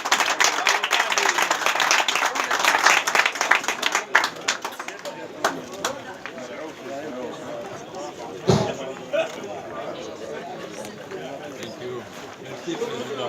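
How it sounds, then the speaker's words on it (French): Audience applause and clapping at a pétanque team welcome event, strongest at the start and then thinning into scattered claps under crowd chatter and talking voices for several seconds. "je vous demande d'applaudir très fort"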